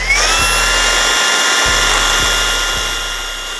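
A battery hedge trimmer runs on power setting 2, a close, steady high-pitched motor whine with buzzing blades and a few mechanical clicks, easing slightly toward the end.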